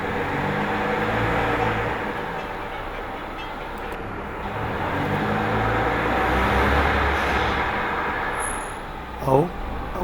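A car's worn front brake pads give a short, high squeal as the brakes are applied near the end, rising briefly over a continuous road and engine rumble while driving.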